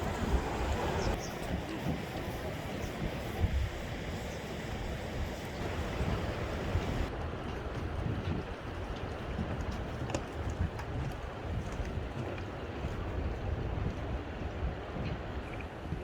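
Hantan River water running freely after its ice has thawed, a steady, even rushing wash that fills the whole stretch at a moderate distance, with no voices.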